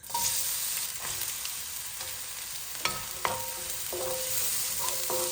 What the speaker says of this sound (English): Once the oil is really nice and hot, I'm going to throw in the onions.